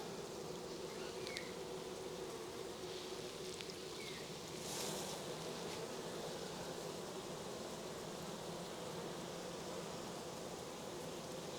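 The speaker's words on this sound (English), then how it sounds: "A bit hard to see with that many bees on." Dense, steady buzzing of many honey bees crowded on a frame of a Cooper hive during a first spring inspection, a continuous close hum filling the whole stretch with no talk.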